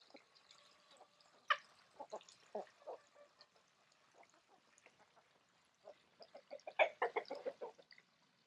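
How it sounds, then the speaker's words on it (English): A rooster named Donald calls and clucks in short, scattered bursts, faint and somewhat distant at first, then a louder run of rapid clucking notes toward the end. "So that was Donald, and a lot of y'all have told me that I have a very beautiful rooster."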